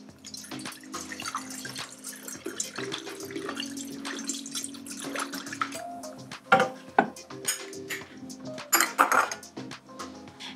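Homemade fruit kombucha is poured from a pitcher into bottles, with liquid trickling and splashing amid clinks of glass and knocks of kitchenware, close and irregular, no talk.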